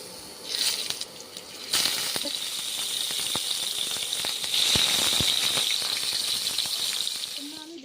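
Salted, turmeric-rubbed rohu fish pieces drop into hot mustard oil in a wok, setting off a loud, steady sizzle with crackles and spits that swells when the fish goes in and keeps going.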